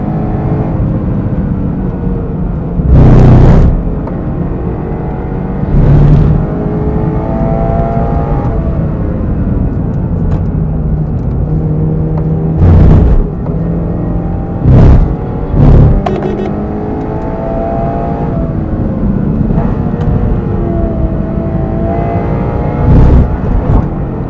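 A Toyota GR86 race car drives a lap of Fuji Speedway, its engine droning loudly from inside the cabin with rising and falling revs through gear changes and several sharp bursts of louder noise.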